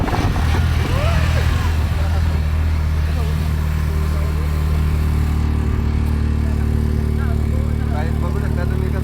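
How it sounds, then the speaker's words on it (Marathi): Auto rickshaw engine chugging with a continuous low throb while riding through town, close and loud, with traffic noise around and faint voices. "बघू शकता तुम्ही कसं आता आम्ही रिक्षा करून चाललोय स्टॉपवरती."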